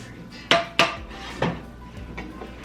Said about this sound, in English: And then throw the macaroni into the casserole dish.